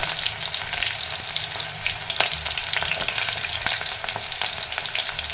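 Mustard seeds crackle and onions fry in hot oil for a capsicum stir-fry, making a dense, close sizzle dotted with sharp popping crackles throughout.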